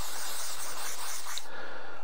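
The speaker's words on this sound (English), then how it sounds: "just take your silicone spray" Silicone spray hisses from an aerosol can in one steady burst that stops abruptly, a bright airy spray with nothing else beneath it.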